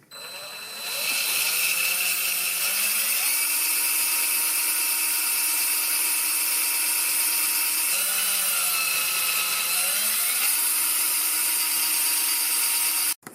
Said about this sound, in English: We'll go ahead and drill it now. We'll drill some holes.